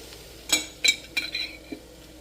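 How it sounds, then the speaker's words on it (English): Metal spoon stirring minced garlic in a cooking pot for shrimp and crab étouffée, a few separate scraping clinks against the pot over a faint sizzle, close and fairly quiet. "I went ahead and gave it a good stir, and I'm going to let the garlic cook for a little bit."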